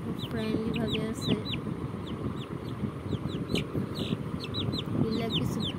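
A chicken clucks indoors in a home where it sleeps beside a pet cat, giving short, close, repeated clucks and chirps over a low room hum.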